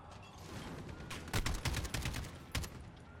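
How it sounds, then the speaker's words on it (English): Bursts of AK rifle fire in a Call of Duty: Modern Warfare battle, quick rapid shots in short clusters at moderate distance, fairly quiet overall. "AK actually has got quite a bit of recoil, so we're going to want to really pepper that trigger to maintain our accuracy"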